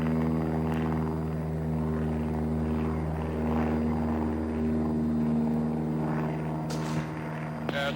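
A helicopter hovers and tracks a running grizzly bear for darting, its engine and rotor giving a loud, continuous drone with steady tonal hum throughout.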